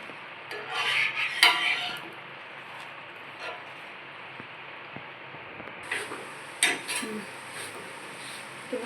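Paratha frying in a pan, with scraping and clinking of a utensil against the pan in short bursts over a steady faint sizzle, moderately close and without talk.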